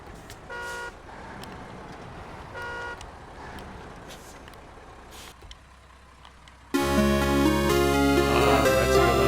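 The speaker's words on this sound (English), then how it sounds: "I think it has a better truck horn than the bigger truck." Truck horn on a vehicle in a snow driving video game: two short honks, then a long, loud sustained blast that fills the end of the clip over steady engine rumble.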